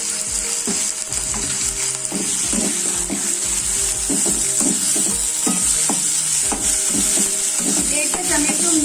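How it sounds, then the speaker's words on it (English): Tomatoes go into a prawn malai curry frying in a pan, giving a steady loud sizzle with repeated scraping stir strokes and spoon knocks throughout, with no talking. "So we are adding here 3 small piece of tomato."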